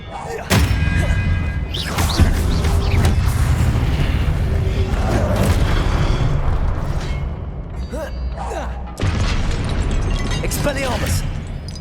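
Repeated Expelliarmus spells cast in Hogwarts Legacy, loud close thumps and bursting booms over a dense rumble of combat, with several sharp hits and a voice calling out amid the action.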